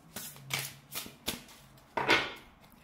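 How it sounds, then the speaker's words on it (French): A brand-new deck of oracle cards being shuffled by hand: several quick riffling bursts, close and moderately loud, with brief pauses between them and a final longer, brighter shuffle. "Je les brasse un peu comme c'est un nouveau jeu."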